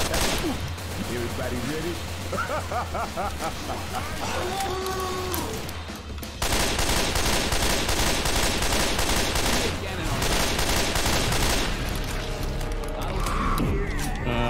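Dense, rapid gunfire from a Left 4 Dead 2 match, loud bursts running nearly continuously and thickening in the second half, with players talking over it.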